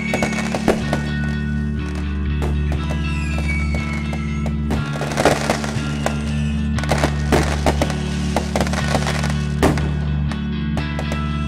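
Diwali firecrackers burst outside, with dense, irregular crackling pops and sharp bangs repeating steadily over a constant low hum, loud and continuous throughout with no talk.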